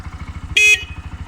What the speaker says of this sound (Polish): Klakson również działa.